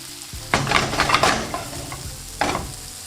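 Asparagus cooking in a pan beside steak and potato gratin, with a steady soft sizzle broken by two louder bursts of stirring and clattering utensil noise, no voices.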